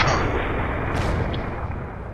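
Heavy artillery fire in a tank video game rolls as a dense, loud rumble of blasts, with a sharper crack standing out briefly partway through.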